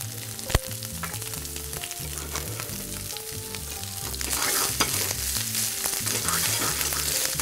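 Arugula wilts in a pan with oil and butter, giving a constant close sizzle and fry with a sharp clack early on, the frying growing louder and busier partway through; no talk.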